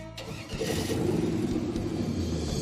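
A drag boat's engine at idle as it approaches the starting rope of a drag boat race, a close, loud, rumbling low throb that swells after a brief start and holds steady.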